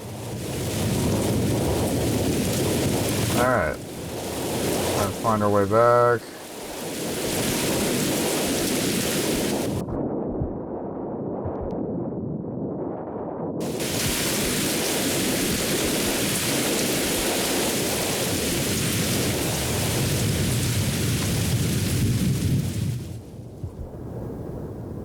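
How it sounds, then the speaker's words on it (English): Heavy rain and rolling thunder from a storm in the horror game Mothered, a dense continuous downpour with deep rumbles and brief quieter moments; a voice speaks briefly partway through. "looks like the storm's picking up"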